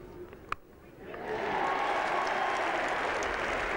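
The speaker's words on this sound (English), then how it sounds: "To a great cheer from this Yorkshire crowd" A Yorkshire cricket crowd at Headingley cheers and applauds during a 1981 England v Australia Test match, the noise swelling after a quiet start into sustained, distant clapping and roaring.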